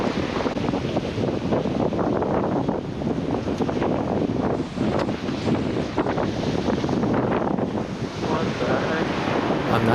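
Strong, steady wind buffets the microphone at sea while lure fishing off Aitutaki, a continuous loud roar with surf-like rushing and no pauses.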